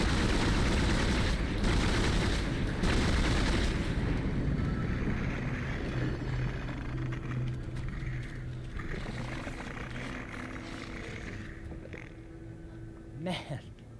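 Gunfire in the video game Dead Space blasts limbs off enemies, loud bursts of shots and roaring game effects crowding the first few seconds and then fading into a low rumble, with someone talking throughout.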